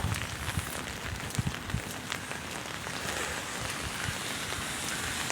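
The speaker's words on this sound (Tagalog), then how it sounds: "Mga travelers, palakas na naman ang ulan." Heavy rain pours steadily onto a city street in Birkirkara, Malta, a dense, even hiss of drops splashing on pavement with occasional sharper patters, continuous and fairly close throughout.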